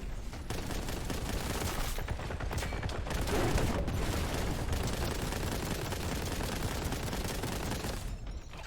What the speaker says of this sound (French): Il est en train de tirer dans les sacs de sable.